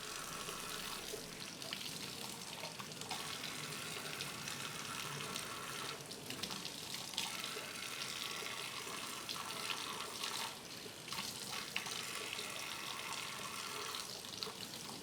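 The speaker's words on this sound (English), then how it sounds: "Rinse the exterior of the straw under running, safe drinking water only." A tap runs steadily for about fifteen seconds, rinsing the outside of a LifeStraw Sip drinking straw under a continuous, close, hissing stream of water with no talking.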